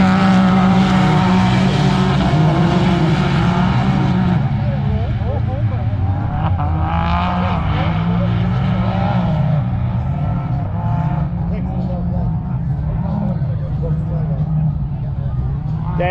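Race cars roar around a sand track at the Invasion Sand X race, with loud, continuous engine drone and revving that rises and fades as cars pass, and crowd noise and voices underneath.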